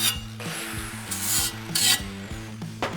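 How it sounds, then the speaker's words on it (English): Soap-coated cutting wheel slicing through metal on a truck engine swap project, heard as repeated rasping, hissing bursts of cutting with short pauses between passes and a steady low machine hum beneath. "You use a bar of soap, you coat the wheel with it, and you go to cutting, night and day difference."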